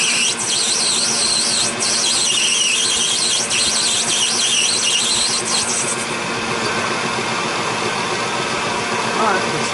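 Metal lathe running while turning throttle cable ends, a steady motor drone with high whining tones that drop away midway, loud and close.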